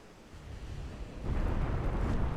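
A shell strikes a British battlecruiser in the naval game Ultimate Admiral: Dreadnoughts, a deep rumbling boom that swells and holds as a low, heavy roar, with no speech over it.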